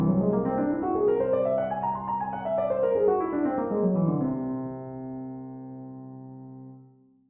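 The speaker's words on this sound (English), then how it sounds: "we're often given things such as whole tone scales, which is a scale built entirely out of whole steps" A whole tone scale is played, its notes stepping up to a peak and back down in an even, clear sequence before a final low chord rings out and fades.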